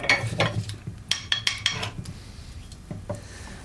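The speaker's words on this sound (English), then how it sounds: "We have to grind the oak galls to a powder" Oak galls being ground to powder in a vessel, producing irregular scraping and clinking knocks of hard material against a container, close and fairly quiet with gaps between strokes.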